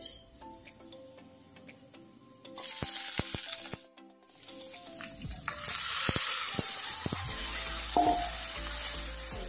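Chopped bhadal fries in a pan with a steady hiss and crackle that swells louder partway through, with a few clinks of a utensil against the pan, heard up close with no talking.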